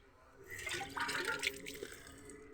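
Water poured by hand onto the roots of garden plants, a soft, fairly quiet splashing and trickling that swells for about two seconds.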